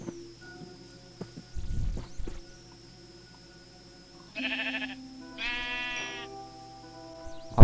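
Minecraft sheep bleat in short, separate calls, with a few soft thuds and quiet gaps between them.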